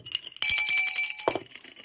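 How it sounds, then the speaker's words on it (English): A small bell clatters as it falls, giving a bright metallic ring that sustains for about a second before a dull knock and a fading shimmer. "Oh, my bell just dropped."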